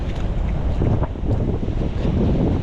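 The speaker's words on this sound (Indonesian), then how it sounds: "ombaknya udah kuat, angin juga sangat kencang" Strong wind buffets the microphone over rolling sea waves on a coast as the tide comes in, a steady loud broadband roar with no break and no voices.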